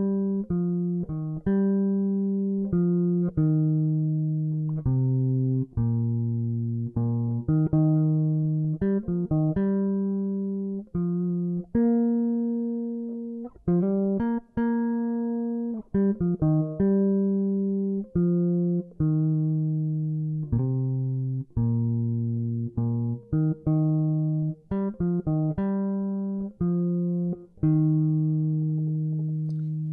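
Bass guitar plays a melodic line of distinct plucked notes, moving steadily through low pitches with clear attacks, loud and close with no talk over it.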